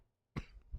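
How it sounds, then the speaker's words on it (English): A single short cough from a man with allergies, sudden and fairly close after a quiet moment, followed by a second rougher burst of breath. "Real healthy cough going into Don Juan tonight"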